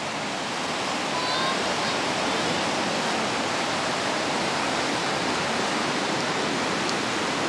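Seawater rushes and surges into a natural rock pool on the coast at Trindade, Brazil, a loud, steady wash of churning water filling the whole stretch without letup.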